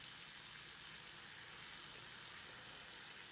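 An omelette sizzles steadily in a pan as it cooks off the flame from the pan's leftover heat. The hiss is even and unbroken, with no talking.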